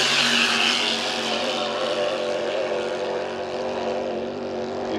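An H350 hydroplane racing boat engine at full throttle during time trials, a loud, steady, high-pitched roar held without letup from start to finish.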